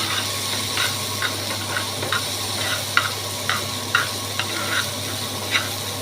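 Eight to ten garlic cloves fry in a pan, giving a steady close sizzle broken by regular scraping strokes as they are stirred, with no voices.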